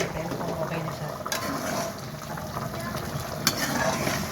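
A pot of parota dish bubbles and sizzles steadily at close range, a continuous frothy boiling with a couple of brief clinks.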